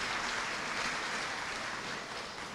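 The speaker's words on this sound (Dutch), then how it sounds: "Ook een applaus voor de" A hall full of people applauds at a government ministry diploma ceremony, a dense, steady wash of many hands clapping for a few seconds with no speech over it.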